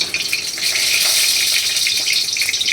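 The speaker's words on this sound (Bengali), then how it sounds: "মাছগুলোকে কিন্তু অল্প ভাজতে হবে, এপাশ ওপাশ করে আমি তুলে দেবো।" Aair fish fries in hot oil in a pan, giving a steady, close, bright sizzle with crackling spits and no talk.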